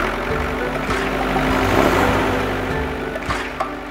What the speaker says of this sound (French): Le tracteur.